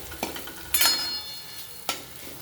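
Onion-garlic masala stirred and sautéed in a hot oil tempering for moong dal amti gives a soft sizzle broken by a few sharp stirring scrapes, one bright scrape in the middle, then quieter frying.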